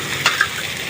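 Chicken liver and gizzard, boiled beforehand and added with their water, go into a hot pan of fragrant spices. A steady sizzle runs throughout with a couple of brief stirring scrapes, close and moderately loud, with no talking.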